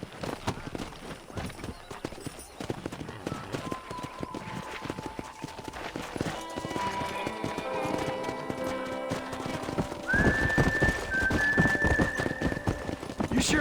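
Hooves of a pack of wild horses clip-clop in Red Dead Redemption, a busy galloping patter with occasional whinnies, building louder toward the end under a steady musical drone.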